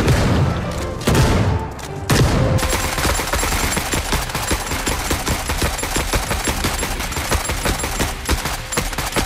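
Rapid automatic fire from a video game machine gun: a few heavy bursts, then a sustained, loud rattling stream of closely packed shots that keeps going.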